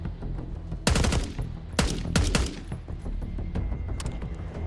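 Bursts of rapid gunfire in the first-person shooter Call of Duty Black Ops 6, with several loud volleys of automatic shots separated by short gaps over a steady background rumble of battle.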